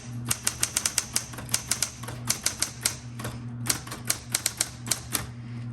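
Keys clack on a 1960s Smith Corona Coronet Automatic 12 typewriter in quick, uneven bursts of sharp strikes separated by short pauses, close and alone over a faint steady hum.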